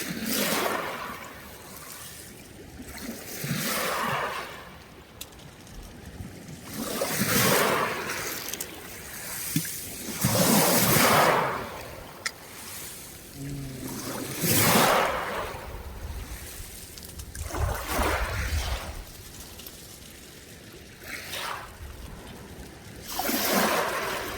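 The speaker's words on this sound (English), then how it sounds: "it's the rocks hitting amongst each other when getting washed in and out" Waves wash in and out in slow repeating surges on the Lake Superior shore at Duluth, each carrying a rattling clatter of pebbles tumbling against one another, fairly close.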